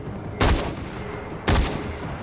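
Gunfire in the video game Far Cry 4, two sharp, loud blasts about a second apart, each decaying quickly into steady background game noise.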